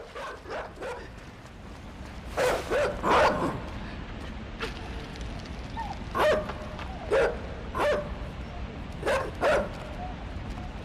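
A dog barks repeatedly in short bursts of one or two woofs, spaced a second or so apart over a steady background hiss, fairly close and moderately loud.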